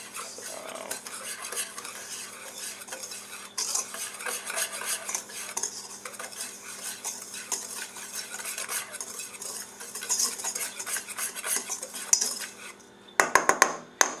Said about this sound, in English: And it said whisk them together.